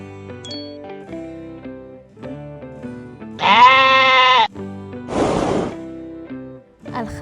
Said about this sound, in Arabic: الخروف.